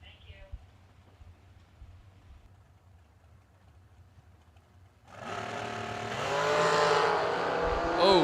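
A green dragster roars at a drag-racing event, launching loud and close after five seconds of low crowd murmur, its engine surging and holding a harsh, rising howl to the end.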